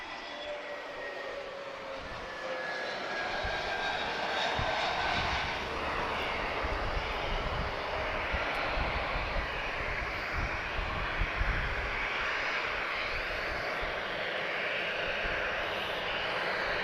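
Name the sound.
Azores Airbus A321neo jet at Lisbon Airport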